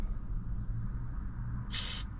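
A short, bright burst of aerosol grease sprayed onto the electric window mechanism of a 1981 Dodge D150 pickup, lasting about a third of a second, over a steady low hum of background rumble.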